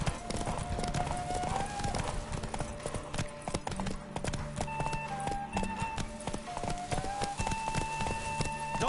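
Roach the horse gallops in a race in The Witcher 3, steady clip-clop hoofbeats pounding throughout over a busy game soundscape with musical tones.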